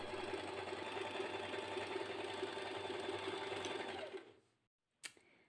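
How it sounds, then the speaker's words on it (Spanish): A sewing machine runs a flat zigzag seam joining the neck pieces of a corset. It buzzes steadily and close for about four seconds, then stops, followed by a brief click. "uno las piezas del cuello con una costura plana en zigzag"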